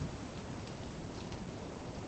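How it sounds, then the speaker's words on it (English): Steady broadband rain hiss, loud and unbroken, fills the cockpit during a stormy VR flight from Prince Rupert to Stewart, BC in Microsoft Flight Simulator 2024. "it has been stormy and rainy like this the whole flight"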